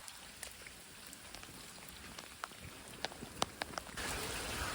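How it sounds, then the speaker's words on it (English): Steady rain falls at Spiš Castle, a soft continuous hiss with scattered sharper drops tapping nearby surfaces, heard outdoors with no talk. "It's so rainy."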